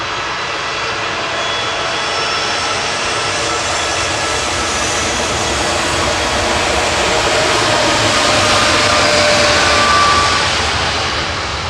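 An easyJet airliner bound for Rhodes takes off from Manchester Airport, a loud sustained jet engine roar that swells toward the end and then begins to fade, heard alone.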